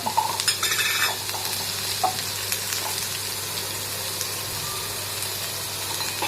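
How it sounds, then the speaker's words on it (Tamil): Brinjal and onion sautéing with turmeric powder in a pan, a steady close sizzle of frying with a few scraping stirs near the start, continuous throughout without any talk. "அதை நல்லா வந்து வதக்கி விடுங்க மஞ்சத்தூள் போட்டுக்கலாம்"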